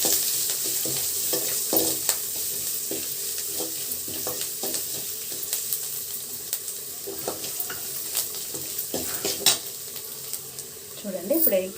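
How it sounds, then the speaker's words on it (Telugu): Turmeric is stirred into a sizzling garlic tempering for Andhra-style tomato rasam, with steady hiss under repeated scraping strokes of a spoon against the pan. No voices. "ఒక 1/4 టీ స్పూన్ పసుపు వేసి కలబెట్టేస్తాను"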